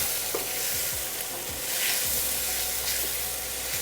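A grilled cheese sandwich frying in a pan gives a steady, loud sizzling hiss with occasional soft scrapes and light clicks; no one speaks.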